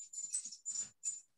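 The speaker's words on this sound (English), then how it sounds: "if you guys can hear the dogs barking in the background" Dogs bark faintly in the distance, three short hissy bursts with no talk over them.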